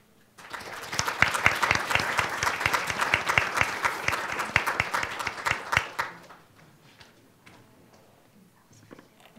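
A panel audience at a Detroit education discussion breaks into brisk applause after a sharp start, with dense, clearly separate claps holding steady for several seconds before cutting off and leaving a quiet room.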